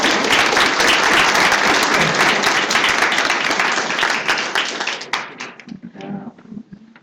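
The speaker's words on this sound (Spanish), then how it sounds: "Un aplauso, por favor" An audience at an academic lecture on artificial intelligence applauds the director, a loud dense burst of clapping that thins into scattered claps and fades out near the end.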